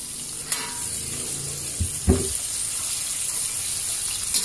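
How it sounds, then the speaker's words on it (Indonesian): Blended spice paste hits a hot pan for Aceh-style stir-fried shrimp, giving a steady sizzling hiss with a couple of sharp splattering bursts as it lands and settles. "Sekarang kita tambahkan bumbu yang sudah dihaluskan,"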